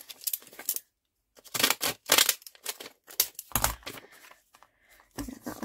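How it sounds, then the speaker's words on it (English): Deckle edge scissors snip paper in short bursts of cutting and rustling, with brief pauses between cuts, close and fairly clear. "I'm going to use my deckle edge scissors. I'm going to just cut it down a little bit."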